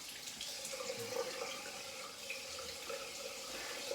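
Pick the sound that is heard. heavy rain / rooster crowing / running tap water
running tap water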